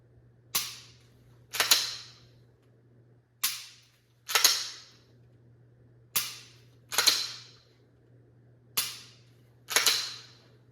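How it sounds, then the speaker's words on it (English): Pistol dry-fire trigger clicks with a red dot and light mounted, eight sharp clicks in loose pairs against a faint steady hum, close and alone with no talk. "take a couple dry fire shots"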